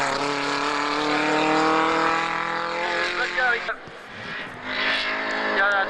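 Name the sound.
Simca 1100 racing car driving in a hill-climb competition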